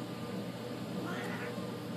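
A cat meows once, a drawn-out mid-length call rising over a steady room hum, fairly close and alone, with no speech during the sound.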